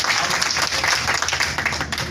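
Audience applause fills the room at a business talk, a steady dense patter of many hands clapping throughout, loud and continuous with no voices rising above it.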